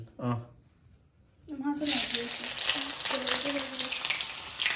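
Onions dropped into hot oil burst into a loud, close sizzle that keeps crackling steadily; a voice is heard briefly before the frying begins.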